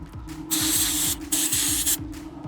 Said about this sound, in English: I will just take my brake cleaner and just clean it